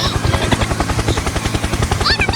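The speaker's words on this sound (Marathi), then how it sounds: "helicopter helicopter" A helicopter's rotor beats in a fast, loud, regular thumping pulse close by, with a high whine and brief chirps near the end, and no speech.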